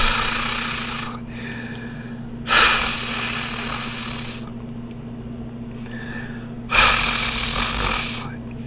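Two bursts of breathy, hissy airflow rolling in a rapid tongue-trill flutter, a trilled R made with breath only and no voiced tone, separated by quieter pauses over a steady low hum.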